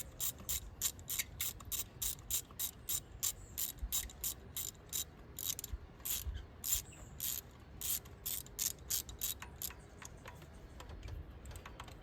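A ratchet on a 3-inch extension backs out the spark plugs of a Ford Ranger 2.3 EcoBoost, giving rapid, crisp clicking bursts in uneven runs that are close and fairly quiet.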